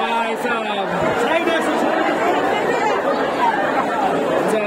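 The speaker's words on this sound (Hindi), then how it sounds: "आप देखिएगा यहाँ पे भीड़, ऐसे ही ट्रेन आया था उस समय ऐसे ही भीड़ था।" A dense crowd on a Kolkata railway station platform during Durga Puja, constant loud chatter and babble of many voices close around, with a few faint clanks above it.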